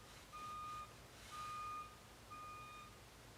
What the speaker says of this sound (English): there is like a big truck backing up